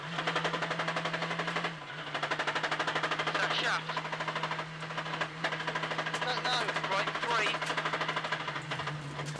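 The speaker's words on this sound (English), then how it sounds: "with hammering noises coming from a broken drive shaft" A 1600-class rally car with a broken drive shaft, on a British Rally Championship 2000 stage, makes a rapid, relentless mechanical hammering over a droning engine, loud and close, while a commentator talks over it.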